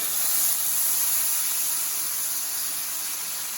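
A loud, steady hiss of water steaming on a hot Blackstone 17-inch E-Series griddle, continuous and unbroken for the whole stretch with no voices.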